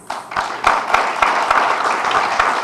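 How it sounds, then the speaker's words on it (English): An audience at a government signing ceremony in Sindh breaks into applause, a fairly loud wash of clapping that swells quickly and holds steady. "Hold your applause. Hold your applause."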